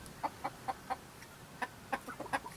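A rooster and chickens cluck in a steady, irregular series of short calls over a soft outdoor background, fairly close by.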